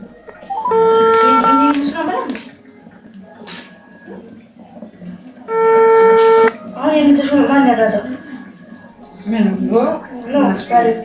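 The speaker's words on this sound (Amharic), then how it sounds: "ስልክ ይሄዳል።" A phone rings at home while someone cooks. Two bursts of steady electronic ringing tones alternate with people talking nearby.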